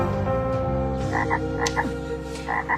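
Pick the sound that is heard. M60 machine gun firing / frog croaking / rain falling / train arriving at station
frog croaking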